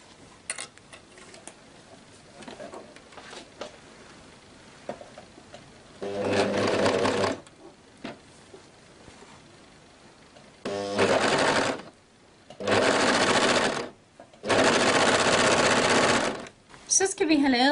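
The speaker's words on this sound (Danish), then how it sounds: "Og de bliver så overlocket sammen her med den firetrådede overlock." A four-thread overlock serger stitches a tunic shirt's shoulder seam in several loud, steady runs of rapid motor whir separated by pauses, with quiet sounds of handling between the bursts.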